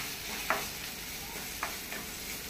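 Steady sizzle of roughly chopped medium tomatoes frying in a pan for crab xacuti, with a few soft stirring scrapes over the continuous hiss.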